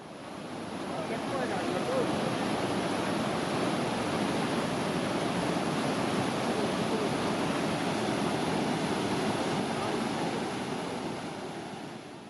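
Olipuzha river swollen by heavy rain and spilling over a causeway, a steady broadband rush of flowing water that holds constant throughout, loud and close with no voices.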